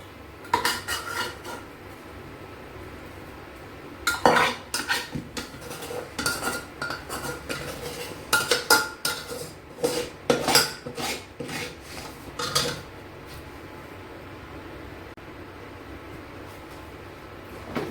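A metal spatula scrapes and clinks against a pan while lifting out fried eggplant, giving a series of irregular scraping and tapping bursts at close range with short pauses between them.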